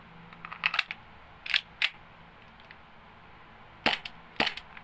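Airsoft 1911 pistol fitted with a Hi-capa slide firing a few sharp, snappy cracks spread out with pauses between them, fairly close and otherwise quiet.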